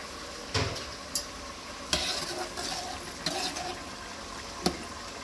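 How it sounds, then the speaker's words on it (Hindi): Onions frying in several cups of hot oil for a mutton dish, a steady sizzle with a few louder scrapes and spatters from stirring scattered through, close and without talk. "प्याज को हम ब्राउन होने देंगे ताकि अच्छी तरह ब्राउन हो जाए।"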